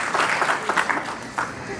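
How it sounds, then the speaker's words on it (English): An audience at a property and fraud prevention forum claps in a short burst of applause, a cluster of quick hand claps that quickly thins out, with some talk mixed in. "So give yourself a round of applause."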